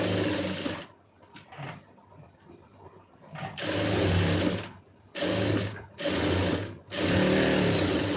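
A sewing machine runs in several stitching bursts around a blouse lining, with short pauses between runs, close and steady, no talking.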